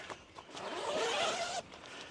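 A zipper on a camping shower tent for an overland setup pulled open in one smooth, quiet rasping stroke lasting about a second, close and alone.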